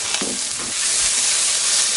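Chopped onion sizzles in a hot pan at the start of baked macaroni, a steady loud frying hiss with a brief stir near the beginning, no voices.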